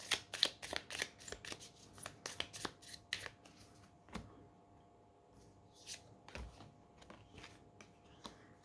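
Tarot cards being shuffled close up, a quick run of crisp riffling flicks that slows into sparse, softer card taps and slides, with no talking.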